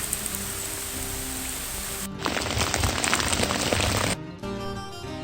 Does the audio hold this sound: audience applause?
no